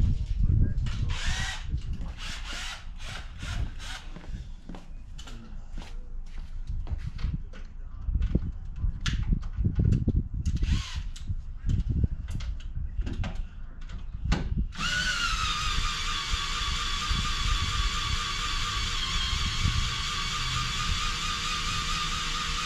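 A drill spins to prime the oil system of a 2JZ engine before start-up. At first come bursts and clattering handling noises, then a long, steady whine runs to the end, with some voices in the background.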